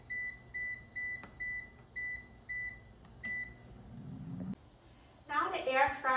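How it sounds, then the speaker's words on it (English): An air fryer set to 400 degrees Fahrenheit for five minutes gives a series of regular, evenly spaced electronic beeps as it finishes cooking, followed by a low whir and then a burst of noise at the end. "Now the air fryer is done cooking"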